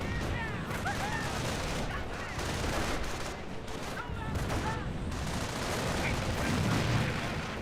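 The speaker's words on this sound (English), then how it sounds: "Machine gun bunker there." Rapid bursts of machine gun fire from a bunker in a Company of Heroes battle, continuous rattling volleys with scattered distant booms, moderately quiet under the game's mix.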